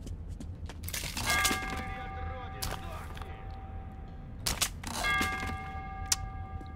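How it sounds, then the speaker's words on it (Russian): A small bell in Metro 2033 rings repeatedly in two separate bursts, bright clear tones with lingering harmonics, heard over constant game noise and scattered clanks. "Да харе уже звенеть в колокольчик"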